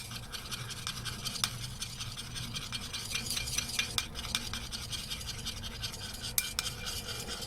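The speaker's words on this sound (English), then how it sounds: "I just want to stick my finger in there and stir" Bath bomb mixture being stirred by hand with a finger: a steady, close scratchy rubbing and grinding that continues throughout, with occasional sharper scrapes.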